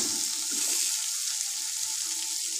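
Sliced onions fry in a pan of melted butter for paneer butter masala, giving a loud, steady, close hiss of sizzling with no break and no talk.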